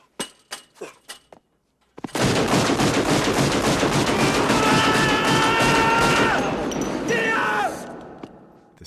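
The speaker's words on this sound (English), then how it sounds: "Utah firing his gun into the air." Gunfire from a bank-robbery action film scene, a character firing a handgun into the air: a few sharp separate shots, then a long, loud, dense burst of shooting with ringing, crashing debris, fading out near the end.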